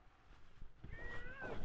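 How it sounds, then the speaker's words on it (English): A cat meows near a wood-splitting area, a short rising tonal call in the last second after a quiet stretch of background rumble, fairly faint and alone. "Well, hi, kitty. I don't think you want to be up there."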